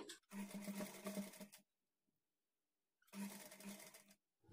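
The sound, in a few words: sewing machine stitching a blouse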